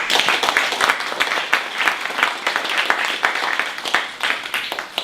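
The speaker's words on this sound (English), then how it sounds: "So I'd just like everyone to give him a round of applause." An audience at a youth public debate on transit applauds Dan, sharp overlapping claps forming a steady loud wave that carries on without pause.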